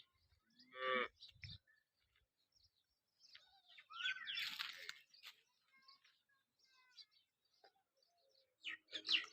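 Cows at a dairy farm give a loud, close moo near the start, with fainter lowing and bird chirps scattered through the rest of the quiet barnyard.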